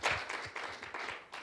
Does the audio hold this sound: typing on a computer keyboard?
no